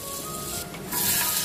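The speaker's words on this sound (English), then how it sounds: "I'll just start frying the onions for the veggies" Onions frying in a pan give a steady, moderately close sizzle that swells louder partway through, with no talk over it.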